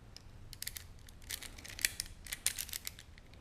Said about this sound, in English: So we're just kind of trying to saw at it.